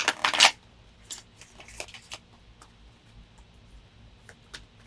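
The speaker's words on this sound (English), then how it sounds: "I'm going to shuffle this one more" Tarot cards riffle in a quick, close shuffle, then a scatter of faint taps and slides as the deck settles.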